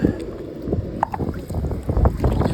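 Gusty outdoor wind buffets the microphone in uneven rumbling bursts on cold water beside a boat, with light knocks and splashes mixed in and no speech.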